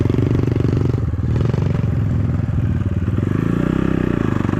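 A KAYO TSD 110 enduro motorcycle engine runs loud and close during off-road riding practice, with a rapid throbbing putter that rises and falls as the throttle is opened, with mechanical clatter and no voices.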